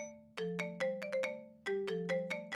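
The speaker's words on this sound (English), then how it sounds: "Suddenly, Sayaka's phone began to buzz with an incoming call" An incoming-call ringtone in an otome video game plays a bright repeating electronic melody, two short phrases of chiming tones heard clearly and alone.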